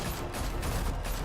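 Police open fire in a Batman game, producing a brief, steady volley of gunshots that stays loud and dense, with no voices over it.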